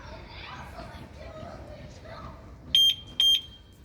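Two short electronic beeps from an Arora CRV 125 motorcycle's keyless alarm ring out near the end, sharp and high, after a stretch of soft background murmur and indistinct talk.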